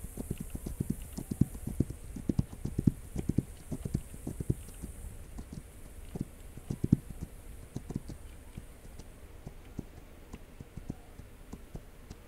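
Horse hooves clip-clop in a steady, fairly dense patter in the video game This Land Is My Land, moderately close and alone with no talk.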